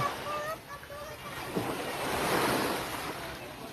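Sea waves washing onto a beach shore, a steady broadband wash with some wind noise on the microphone, a soft surge building midway, and faint whistling tones early on.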